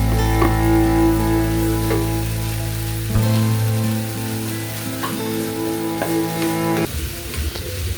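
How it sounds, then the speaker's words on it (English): Cassava and beef fry in a pan as they are stirred with black pepper, a steady close sizzle running throughout with faint scraping, under a continuous tonal hum from nearby equipment and no talking. "season with black pepper, give it a good stir, and your dish is ready"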